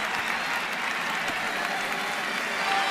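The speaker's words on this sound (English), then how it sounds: "the fans stand and cheer" Fans at a baseball stadium cheer and applaud after a two-run double, a broad, steady crowd roar that fills the whole stretch at a distance.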